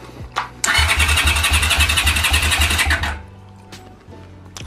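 A trike engine cranks and fires into a loud, rough, pulsing run for a few seconds before cutting back down, with a short sharp pop before it catches and another after it dies away.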